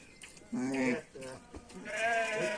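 Sheep bleat loudly at close range in a village milking pen, several drawn-out wavering calls overlapping one another, with a brief quieter gap between them.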